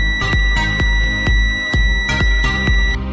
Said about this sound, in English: The pen contacts both ends of the wire, and the beep is normal